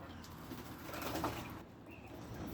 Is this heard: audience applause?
no